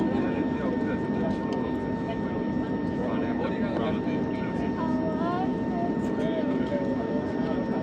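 An Air India airliner, heard from a window seat in the cabin, gives a steady loud engine roar with a constant whine while it builds speed on the runway, and a person talks over it throughout.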